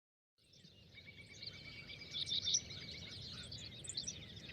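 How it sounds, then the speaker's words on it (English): A recorded Henslow's sparrow call played back in a grassland setting: very short, high, thin twittering notes over a faint, steady background hiss, no voices. "I want you to listen to the Henslow sparrow's call."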